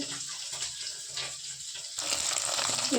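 Oil sizzles and crackles steadily as fish fries, getting louder and more intense partway through.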